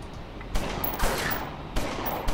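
Gunfire in the gangster strategy game Omerta - City of Gangsters, a rapid fusillade of shots bursting in several loud volleys over a dense, continuous combat din.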